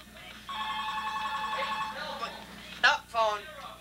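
A telephone rings indoors with a warbling electronic tone, one sustained ring followed by shorter bursts, heard close with people talking over it.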